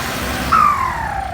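A Kubota L5018 tractor with a newly fitted twin turbo and a four-cylinder direct-injection diesel runs nearby with a low, steady rumble, and a brief high turbo whistle rises and then fades across it.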